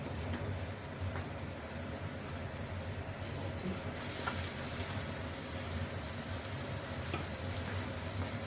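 Onions frying in melted ghee before minced meat goes in, a faint, continuous sizzle with a low background hum and no voices.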